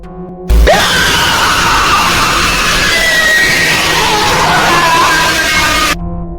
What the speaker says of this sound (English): You will also hear loud, distorted screams that are very disturbing.